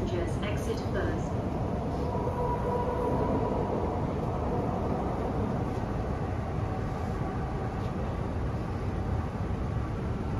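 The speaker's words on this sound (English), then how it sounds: "The train to Tuen Mun is arriving." MTR West Rail line train pulling into Hung Hom station, a steady broad rumble of wheels and carriages filling the platform for about ten seconds, with faint chimes at the start.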